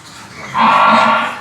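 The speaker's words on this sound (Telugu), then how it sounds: "ఇవన్నీ ముర్రా గేదెలు ఉన్నాయి" A Murrah buffalo gives one loud, drawn-out moo close by, rising after a quiet start and holding for about a second before fading, with no talking.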